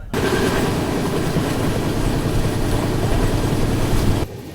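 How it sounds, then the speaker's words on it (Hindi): The Tirupati–Jammu Tawi Hamsafar Express rolls into Kazipet Junction station, a loud, steady rumble of wheels and rail clatter that fills the whole stretch before cutting off abruptly near the end. "और यहाँ पे अपना अराइवल हो रहा है काजीपेट जंक्शन रेलवे स्टेशन पे"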